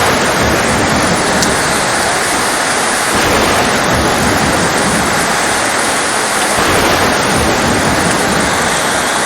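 Very heavy rain pours down on an island in a loud, unbroken roar of dense hiss with no voices.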